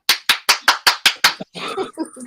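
Seven sharp, evenly spaced raps sound close by in a quick steady rhythm, then stop and give way to a brief stretch of murmuring noise.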